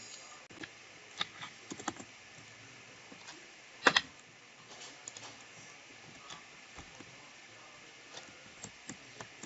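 Scattered, light keystrokes on a computer keyboard during a Brookhaven session in Roblox, faint clicks in small irregular bursts with a slightly louder cluster midway and no talking.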